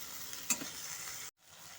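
Tomato and mustard paste sautéing in a pan for a vegetarian bori tomato curry, a faint steady sizzle lasting under two seconds, with a brief dropout near the end.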